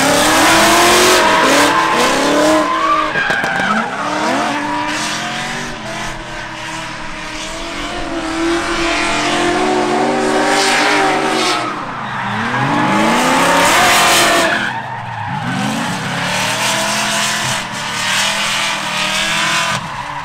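Nissan Z drift cars equipped with FDF kits make loud, continuous engine revving and tire squeal during laps, with the engine note rising and falling through repeated acceleration and sustained screeching from start to finish.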